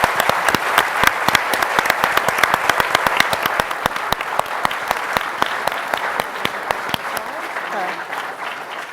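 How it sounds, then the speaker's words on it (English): A large audience claps steadily at a civil rights roundtable for writers and scholars, dense and sustained before it thins out and fades near the end. "But I would like to give our panel a round of applause."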